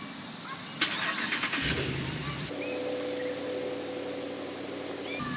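A car engine hauls a camper trailer forward up a slope at a campground, a steady mid-pitched engine drone that rises briefly then holds constant and fairly near, with no talking.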